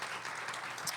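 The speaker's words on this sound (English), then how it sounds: "let's give it a round of applause for that" Audience applause for a played record at a music blindfold-test session, a steady wash of many hands clapping at moderate level throughout a brief stretch, with no talk.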